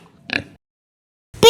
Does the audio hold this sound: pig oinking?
yes